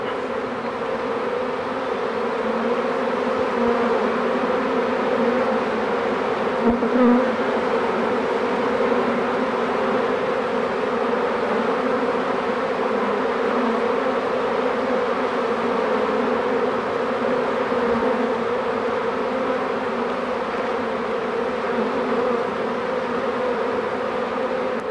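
Honey bees fan at the hive entrance, beating the recall in a dense, steady drone that holds loud and unbroken throughout.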